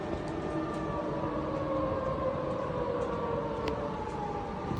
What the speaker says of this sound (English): So you can hear the alarm going off.